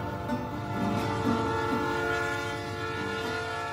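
A Union Pacific train moves along the railroad tracks near a tiny rural community, giving a steady, close rumble of rolling cars with sustained horn tones layered over it for the full length.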